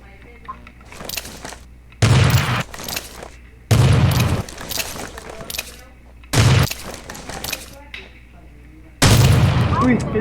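Sniper rifle shots boom loudly in the battle royale game Rules of Survival, four heavy blasts spaced a couple of seconds apart, each trailing into rattling echoes and smaller crackles of distant gunfire between them.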